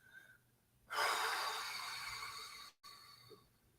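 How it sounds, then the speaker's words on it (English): Deep, steady breathing from a person holding a wall sit with back against a wall, a long loud breathy exhale lasting nearly two seconds, followed after a brief pause by quieter breaths. "And breathing in and out."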